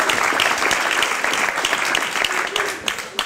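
Audience at a stand-up comedy show at Gotham in NYC claps in dense, sustained applause that holds steady, then thins slightly at the end.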